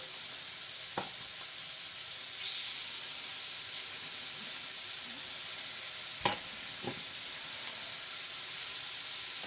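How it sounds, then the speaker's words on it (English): Pork chops searing in a pan turned up fairly high, giving a steady, close sizzle and hiss throughout, with a couple of brief clinks or taps from the pan partway through. "You want to get a good sear, flip it, and get another good sear."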